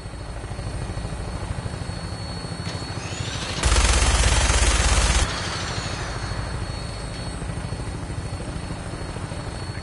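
Steady, close helicopter-like rotor and engine drone from an aircraft in flight in Fallout 4, running throughout with a brief louder, harsher burst of rushing noise in the middle; no voices.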